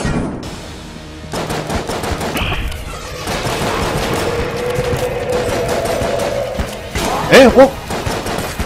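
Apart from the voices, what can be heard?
magnum gunfire in Enter the Gungeon video game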